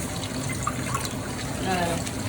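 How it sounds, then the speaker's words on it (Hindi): Water poured into a cup during fish fry cooking prep, a steady splashing trickle sitting close to the microphone with faint background noise. "ये मैंने पानी डाला कप में"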